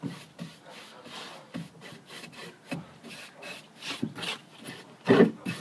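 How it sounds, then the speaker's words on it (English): A paintbrush sweeps sawdust off sanded wood in a series of short, close scratchy strokes, irregular in rhythm, with no talking. "I'm just going to brush it off with my paintbrush to get all of my sawdust off"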